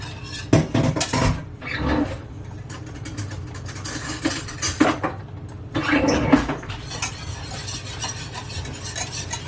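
Custard whisked in a pot on the stove, with rapid metallic scraping and clinking of the whisk against the pan in bursts, close and fairly loud, plus a faint sizzle beneath.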